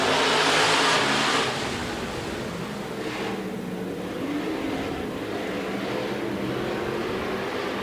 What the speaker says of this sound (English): Stock cars getting through turns 1 and 2 safely.